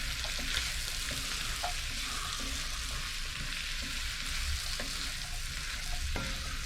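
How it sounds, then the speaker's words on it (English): Diced butternut squash, carrots and beans are stirred in a pot on a narrowboat stove, sizzling continuously at close range. A spoon scrapes and knocks at irregular intervals, and no one speaks. "I'm going to give that all a good mix in."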